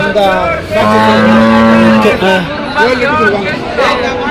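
A cow moos loudly and close at a cattle market, a long drawn low call followed by shorter lows, amid background crowd chatter and bustle.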